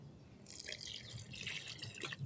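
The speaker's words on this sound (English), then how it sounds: "we put some water in" Water is poured from a pitcher into a concrete mix with additive for rebuilding a fountain bowl, a steady close splashing trickle lasting about two seconds.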